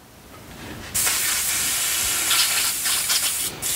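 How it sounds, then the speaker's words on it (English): An airbrush is rinsed out between coats while painting Ork flesh with contrast paints: after a quiet start, a loud steady hiss of sprayed air and liquid runs on, briefly dipping near the end. "Rinse out the airbrush here."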